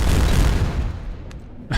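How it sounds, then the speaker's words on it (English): A scout car fires in the WWII Online battlefield game, a heavy booming burst that rolls off, followed by a sharp single crack and a final louder pop, with no talk over it. "That's a scout car firing into the thing."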